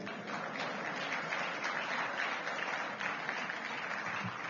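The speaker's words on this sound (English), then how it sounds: "If you want to applaud, please do so." Audience applause at a governance and democracy forum in Nigeria, a steady, even wash of many hands clapping that holds at a moderate level throughout.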